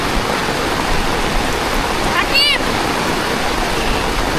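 Steady rain pouring down on the Kachukhet cattle market, where cows stand under tarpaulins amid standing water, a continuous close hiss with a brief faint whistling chirp midway and no talking.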